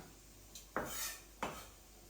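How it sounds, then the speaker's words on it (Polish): Chopped onion drops into a frying pan for softening, giving two sharp clattering scrapes and a brief sizzle, close and clear with no talk. "przekładam pokrojoną cebulę i delikatnie ją sobie zeszklę"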